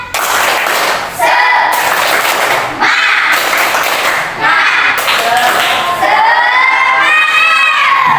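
A classroom of schoolchildren performing a rhythmic spirit clap, bursts of loud clapping and shouted chanting in short segments with brief pauses between, voices rising in pitch toward the end.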